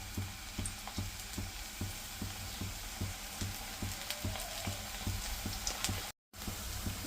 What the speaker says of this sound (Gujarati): तेल आपणे फास्ट गैस होय ने फूल तेल में ज आपणे आने एड करवाना भजिया ने।